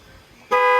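A car horn is tested after a repair, sounding as one loud, sustained tonal blast that starts abruptly partway through and holds steady to the end over faint background noise.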